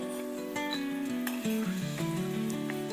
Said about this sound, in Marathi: कढई तापली, तेल टाकलं, म्हणजे आपण आधी शेंगदाणे टाकून घेऊया